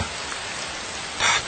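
Rain falls as a radio-drama sound effect, a dense, even patter that holds steady throughout and swells briefly louder near the end, with no voices.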